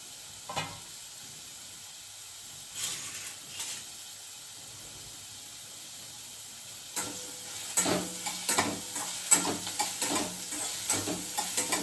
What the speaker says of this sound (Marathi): हे छान परतून घेते.